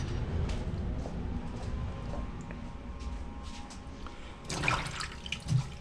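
Rubber RC car tires for a WPL truck's aftermarket dually rims being washed under running tap water, a steady close splashing flow with louder bursts of gushing and handling near the end.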